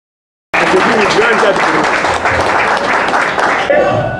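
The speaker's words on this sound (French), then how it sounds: "Nous pouvons applaudir." Audience applause at a Bundu Mayala political party meeting starts abruptly after a moment of silence, then stays as a loud, dense, steady clapping that carries on to the end, with voices mixed in.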